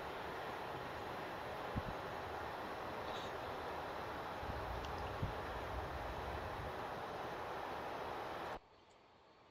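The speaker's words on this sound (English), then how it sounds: "I love the sound of a coasting train that isn't too heavy, like this." A train coasts in Train Simulator on the Harrogate Loop between York and Knaresborough, giving a steady, quiet rumble and wind-like rush with faint wheel noise and a couple of soft clunks, then cutting off abruptly near the end.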